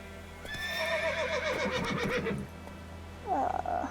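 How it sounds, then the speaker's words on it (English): A horse in The Witcher 3 video game lets out a long, loud whinny, then a shorter second neigh, with faint hoof clatter in between. "Luckily, Geralt can always count on his horse, Roach, to help him in his travels."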